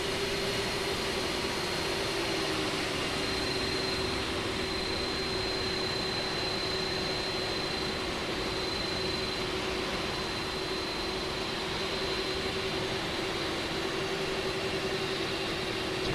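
An airliner taxiing in Microsoft Flight Simulator 2024, a steady loud jet engine whine and hum holding evenly throughout, with no voices.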